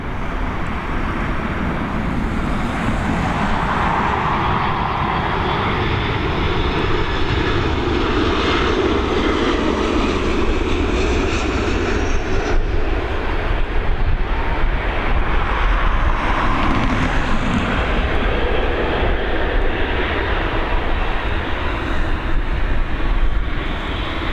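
A Boeing 737 arriving from Nuremberg on an evening landing at Dublin Airport, runway 28L, gives a steady, loud jet roar that holds for the whole stretch, with a broad rumble and a gentle swell and fade as it passes.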